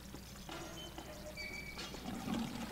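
Water pours and trickles in the Valiant Hearts war game, a soft steady liquid stream over a few seconds, fairly quiet and alone.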